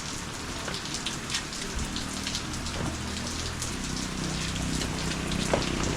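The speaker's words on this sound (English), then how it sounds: "It's just raining more though." Heavy rain pours down during a motorcycle tour in New Zealand, a continuous close hiss of drops spattering on surfaces with scattered louder splashes, steady from start to finish.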